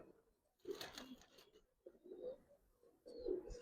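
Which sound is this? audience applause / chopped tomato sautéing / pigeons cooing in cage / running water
pigeons cooing in cage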